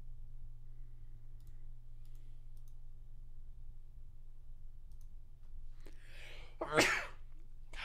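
A single loud human sneeze near the end, close to the microphone, after several seconds of quiet room hum and light keyboard and mouse clicking during a Magic Online draft stream.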